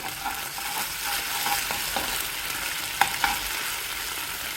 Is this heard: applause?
no